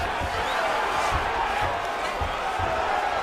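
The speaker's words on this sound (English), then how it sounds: "they can take in the applause because they deserve it after that grappling exchange" Crowd noise in an arena at an Olympic heavyweight wrestling quarterfinal, a steady, broad roar of cheering and applause filling the space, with a commentator talking over it.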